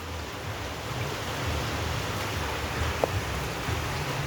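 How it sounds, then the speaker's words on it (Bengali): Steady, dense hiss of heavy rain pours down without a break, broad and even, with a faint low rumble underneath. "কি প্রচণ্ড বৃষ্টি হচ্ছে"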